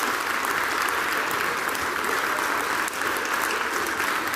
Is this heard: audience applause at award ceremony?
yes